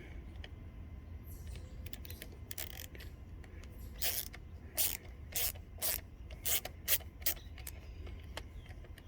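A T15 Torx bit backs out the screws on a 1995–98 GM K1500 dash cluster. Short, quiet creaking and ratcheting clicks come in a close-up cluster over faint background hum.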